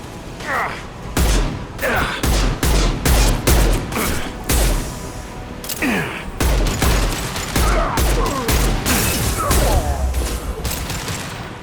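Repeated loud gunfire bursts from Mass Effect 2 combat, including an impact shot being fired, with sharp broadband cracks and booming low thuds in a steady rhythm over about ten seconds.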